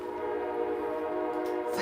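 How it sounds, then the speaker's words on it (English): A train passes with a long, steady horn blast sounding throughout, loud and sustained with a continuous tonal drone, and no talking. "Sorry for the train."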